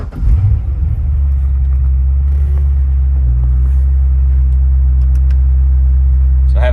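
A 2008 Corvette C6 Z06 V8 starts and settles into a loud, steady, deep rumbling idle close by, with no voices over it.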